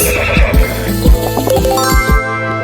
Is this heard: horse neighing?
yes